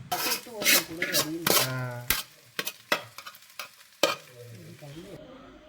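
Onions sauté in a pan for a Kerala country chicken curry, with sharp spoon knocks and scrapes against the pan over a low sizzle, while a voice talks between the stirs.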